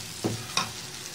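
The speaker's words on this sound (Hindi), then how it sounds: "पैन हमारा अच्छे से गर्म हो गया। अब हम ये बैटर इसमें इस तरीके से डालेंगे।" Eggless omelette batter meets a hot pan with a soft sizzle, marked by two brief scraping stir sounds over a faint, steady frying hiss.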